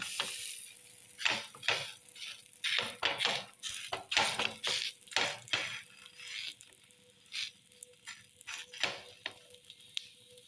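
Ragi adai cooking on a hot dosa griddle gives off close, intermittent bursts of sizzling and crackling, with light scraping and clinking in between.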